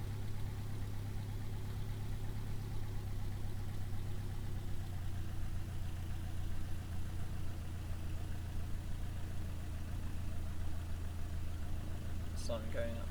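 Aircraft engine at idle throttle in Kerbal Space Program, a steady low droning hum that continues unchanged and fairly faint throughout, with a brief higher chirp near the end.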